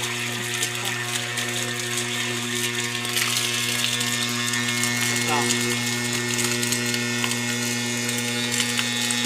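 An Anauger water pump runs after being repaired, giving a steady, close mechanical hum with a faint rattling whir that holds unchanged for the whole stretch.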